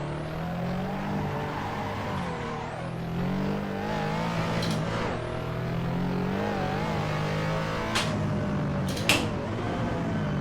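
A Porsche Yellowbird race car in the Assetto Corsa racing game howls around the Nürburgring, its engine revving high and dropping through repeated gear changes, loud and continuous with a few sharp clicks.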